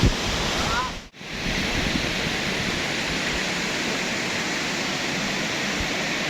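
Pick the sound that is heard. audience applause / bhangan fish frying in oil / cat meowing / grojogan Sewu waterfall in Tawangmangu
grojogan Sewu waterfall in Tawangmangu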